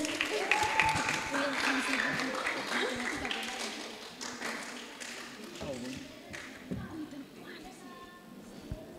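Classroom applause for four biology quiz teams: a burst of clapping and tapping that fades over several seconds, with voices talking throughout.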